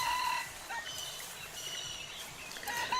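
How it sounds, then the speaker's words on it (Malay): Jungle fowl rooster crowing in a forest setting, a faint, distant cry rising over steady ambient hiss, repeated briefly within a few seconds, with no speech. "makin kerap pula bunyi kokok ayam"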